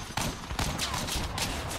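Auto cannon fire in the vehicle combat game Crossout, a dense fast volley of gunfire bursts at a moderate distance, continuous across the stretch with a few heavier impacts.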